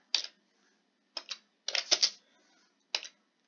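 Short bursts of keyboard keystrokes, a few quick clicks at a time with quiet pauses between them, close and fairly crisp with no talking.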